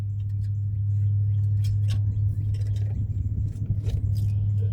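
An engine idles steadily with a deep, constant exhaust rumble while a new muffler is test-fitted, close and even, with light clinks and handling noises over the top.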